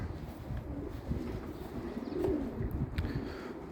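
Racing pigeons coo softly nearby in a loft in northern England, low, throaty murmurs against a faint background hum.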